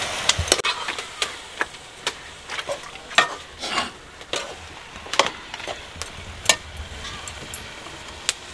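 Keema with tomato, onion, peas and bones being fried and stirred in a pot over a village cooking fire: a steady low sizzle broken by irregular, sharp clinks and scrapes of a spoon against the pan, close up.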